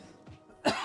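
A single short cough, with a soft throat sound just before it, from a person streaming the game Pantheon: Rise of the Fallen, heard alone and fairly close.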